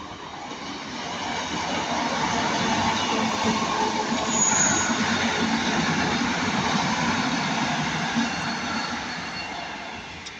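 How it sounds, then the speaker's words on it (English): A British Rail Class 156 diesel unit arriving at Ardwick, bound for Manchester Piccadilly, rumbling steadily as it draws closer, swelling to a peak midway with a brief high wheel squeal before easing off again; no voices. "we've got a 156 coming in this way, going to Manchester Piccadilly."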